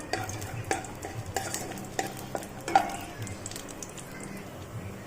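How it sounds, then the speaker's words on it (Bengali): Peanuts and cashews frying in hot ghee and oil, with a steady close sizzle and repeated scrapes and clinks of a spatula stirring against the pan. "ঘি এবং সাদা তেলটা গরম হয়ে গেলে এতে আমি চিনাবাদাম এবং কাজুগুলোকে প্রথমে ভেজে তুলে নেব"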